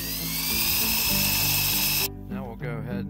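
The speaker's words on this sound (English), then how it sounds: "I'm going to drill a hole with this bit into the concrete." A power drill with a masonry bit bores a hole into concrete for a flagstone column mailbox, giving a loud, steady high-pitched whine for about two seconds before it stops and someone speaks.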